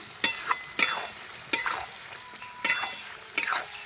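Mutton curry simmering in a pot is stirred with a spoon, giving five sharp scraping strokes at uneven intervals over a steady low bubbling hiss, close and fairly loud, with no voices.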